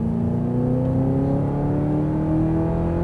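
Sustained full-throttle acceleration from an Audi R8, a loud steady engine whine slowly rising in pitch over a few seconds, heard from inside or near the car without any talking.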